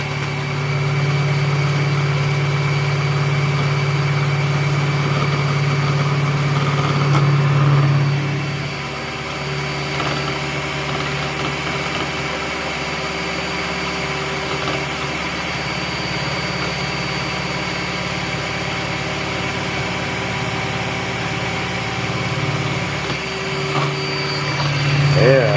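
An electric mixer runs at speed 3, whisking mayonnaise. Its steady loud motor whir continues throughout, and the pitch shifts partway through as the whisk works the mixture.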